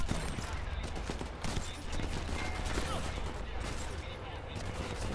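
Gunfire from a sniper rifle in the World War II shooter game Sniper Elite 4, set in an Italian coastal town, comes as dense repeated bursts under a constant noisy battle bed, with a player's voice heard over it.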